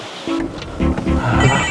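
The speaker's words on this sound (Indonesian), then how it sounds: "Itu HP kok bunyi." A mobile phone rings with a loud, repeating electronic ringtone in short tonal bursts, heard close and alone over a background hiss.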